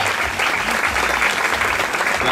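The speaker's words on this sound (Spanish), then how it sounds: "Un aplauso para él de cumpleaños, un aplauso para él." Continuous birthday applause from a small crowd, loud and close, with a steady rattle of clapping hands throughout.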